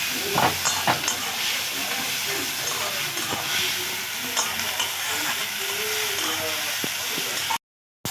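Onions and tomatoes frying in oil with salt: a constant close sizzle with frequent spatula scrapes and clinks against the pan, fairly loud, briefly cutting to silence just before the end.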